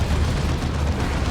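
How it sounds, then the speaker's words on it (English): The Baneblade's Demolisher Cannon fires in Dawn of War 2, a heavy sustained rumbling blast that fills the whole moment, loud and dense, amid battle noise with no voices. "It was Demolisher Cannon for the Baneblade."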